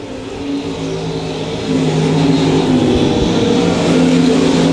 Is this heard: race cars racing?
yes